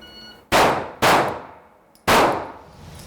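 Three loud gunshots at close range during a shooting drill with a steel target, each a sharp blast followed by a long ringing decay, the first two about half a second apart and the third after a longer pause.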